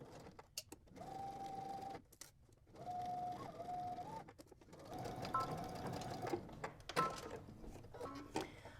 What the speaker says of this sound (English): we're going to go ahead to the sewing machine and we're going to start by first stitching our shoulder together